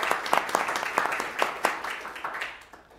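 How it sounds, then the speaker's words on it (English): Applause from a school board meeting audience, a scattering of distinct hand claps over a steady wash of clapping that gradually fades over about three seconds. "let's please give her a round of applause for that"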